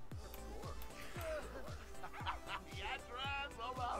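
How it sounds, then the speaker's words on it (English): A dog barks in The Sims 4, several short, sharp barks in a steady rhythm with yips and whimpers, close and clear, while a person talks over them. "Hey, what are you barking at?"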